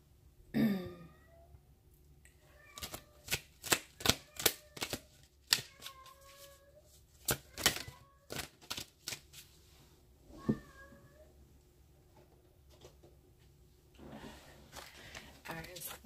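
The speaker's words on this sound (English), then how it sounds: "One more shuffle, and then I'm going to get your angel answer cards." Tarot cards being shuffled by hand, a run of sharp riffling bursts and soft slaps in a quiet room, with a few brief sounds like throat clearing in between.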